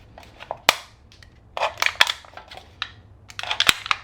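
Sharp metallic crunches and punctures, a knife jabbing and tearing a thin aluminum soda can in irregular bursts, close and crisp.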